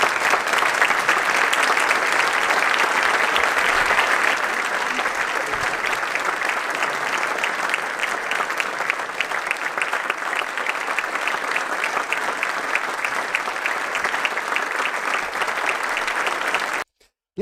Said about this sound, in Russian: Шумом аплодисментов.